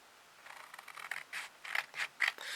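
Scissors snip through paper or card, cutting out a traced shape for a flat Santa Christmas bauble: a close series of short, crisp cuts that come faster and louder toward the end.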